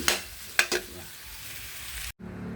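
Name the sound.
sisig frying as eggs are mixed in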